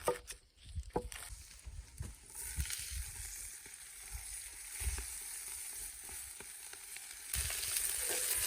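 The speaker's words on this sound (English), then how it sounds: "I'm going to put it in with the butter and the onion now" Foraged wild garlic and greens frying in butter with onion over a campfire, a soft continuous sizzle with thumps and clatter of handling and stirring, close, growing a bit louder at the end.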